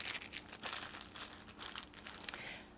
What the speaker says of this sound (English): I'm going to very quickly put this part back in the plastic bag